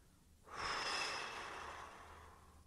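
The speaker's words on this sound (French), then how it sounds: "Expirez par la bouche en un seul jet." A single long exhale through the mouth during a guided breathing exercise, rising sharply after a brief pause and then slowly fading as a breathy rush of air, close and alone.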